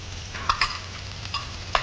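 Chopped garlic cloves hitting a hot pan and frying, with soft scattered sizzles and a few sharper stirring scrapes over a low steady kitchen hum.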